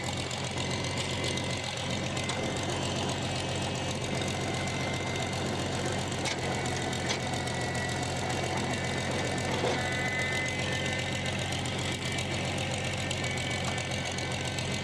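An Oliver Super 77 tractor engine idles with a steady, loud low rumble and faint knocking, running continuously and close by without any talk.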